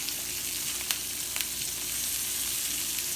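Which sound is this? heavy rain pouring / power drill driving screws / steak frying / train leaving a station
steak frying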